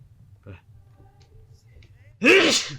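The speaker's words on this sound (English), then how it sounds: "Oh, I feel the sneeze coming." A single loud, sharp sneeze bursts out near the end, following a couple of seconds of quiet game background sound, during a playthrough of Hitman: Blood Money.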